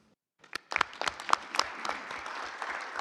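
Applause breaks out from a conference audience at a ministerial climate dialogue, starting after a brief silence and swelling into a dense, sustained crowd clapping that holds steady to the end.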